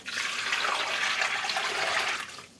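Water gushes steadily into a yarn-dyeing soaking tub for a couple of seconds, a loud, continuous splashing pour that tapers off at the end.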